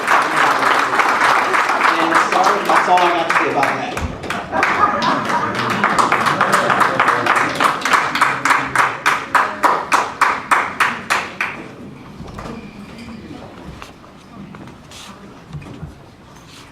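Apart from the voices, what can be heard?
audience applause for the VA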